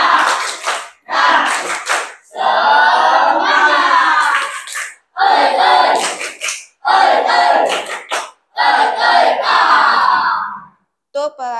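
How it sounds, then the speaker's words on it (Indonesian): A class of students in an Islamic school Qur'an lesson claps and chants the rhythmic 'tepuk semangat' cheer together, loud and close, in several energetic bursts separated by short pauses. "Kalau begitu, tepuk semangat."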